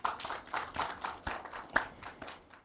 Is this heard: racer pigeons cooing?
no